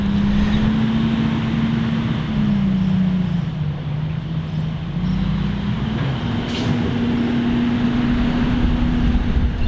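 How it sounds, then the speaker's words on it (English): A tractor trailer truck drives and maneuvers through a turn at a small intersection, its steady engine drone rising and dipping slightly in pitch as it moves, loud and continuous throughout with no talk. "And now with the tractor trailer"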